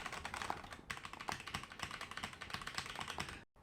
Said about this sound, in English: This is what it sounded like without the O-rings.